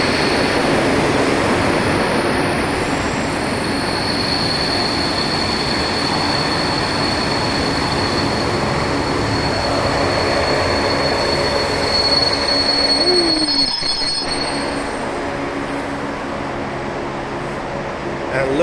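An old diesel train rolls past at Praha-Bubny station in Prague, its wheels squealing in a high metallic whine over a steady loud rumble, with brief talk mixed in.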